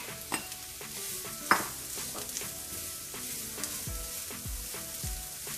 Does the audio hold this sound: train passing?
no